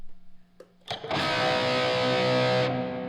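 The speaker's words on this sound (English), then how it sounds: "So that was dark reverb" An electric guitar played through a dark reverb effect: a few brief plucks, then a full strummed chord rings out close and loud, sustaining under a thick wash before cutting off.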